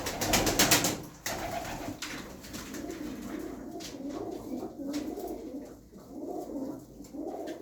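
Hünkari pigeons coo in soft, throaty, repeated calls while being fed, heard close by after a brief burst of rustling or fluttering at the start, with no talking.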